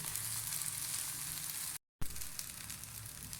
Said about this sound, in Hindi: बस हमने ये 2 मिनट बटर में फ्राई करना है